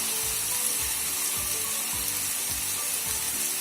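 Frozen fish with skin on, sizzling as it fries in a pan, a loud continuous crackle with a regular rhythmic stirring or scraping pulse underneath and no talking.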